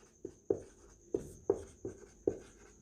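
A pen writes on paper while working a class 10 math solution, making six short scratching strokes in an uneven rhythm, close and fairly quiet against a faint steady hum.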